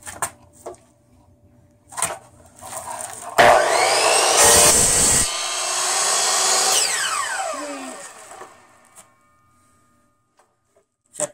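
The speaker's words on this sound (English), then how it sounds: "So I'm gonna trim it maybe that much. There's the saw." A handsaw trims the tail of a pintail longboard deck in one steady cutting stretch of several seconds, loud and close, with faint knocks before and after.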